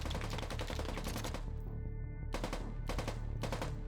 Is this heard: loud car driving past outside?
no